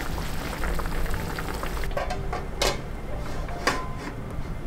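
Thick fried tofu (atsuage) simmers over low heat in a covered pot, a steady soft bubbling hiss with scattered small clicks and taps from the lid and pot.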